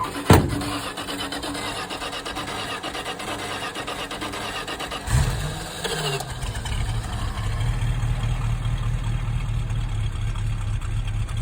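A 1974 Dodge Tradesman 200 van's engine cranks briefly, then catches and settles into a steady, fairly quiet low idle close by.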